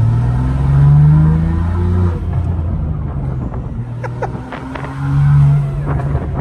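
A BMW G80 M3 with a six-speed manual accelerates, its intake and engine producing a loud, close droning tone that swells, falls back and rises again, with a low rumble and light clicking underneath.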